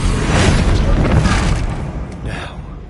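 Spell blasts erupt in the video game Hogwarts Legacy, a loud continuous booming rumble with a second burst near the end, dense and close.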